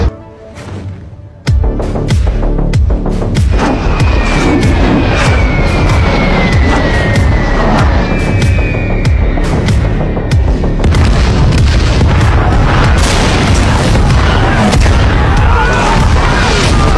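Bombs striking tanks in the open in a war movie scene: a sudden massive blast followed by a continuous roaring, rumbling wall of explosions and debris, very loud throughout with a faint whining tone drifting over it.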